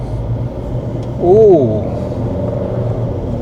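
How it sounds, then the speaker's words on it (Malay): A 2026 Proton X70 engine hums steadily, then rises in a brief rev that climbs and falls back to an even drone. "Okay, kita rasa enjin."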